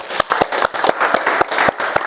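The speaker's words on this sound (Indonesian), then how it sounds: "Beri tepuk tangan untuk kelompok 4." A small group of schoolchildren in a classroom claps for a presenting group, the individual hand claps sharp and uneven, close by and fairly loud, with some bright noise around them.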